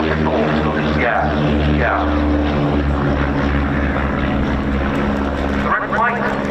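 An RAF light propeller aircraft displays at the RAF Cosford Air Show 2025, its engine a loud, steady droning buzz whose pitch slowly shifts as it passes, with a commentator talking over it.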